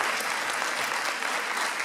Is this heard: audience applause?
yes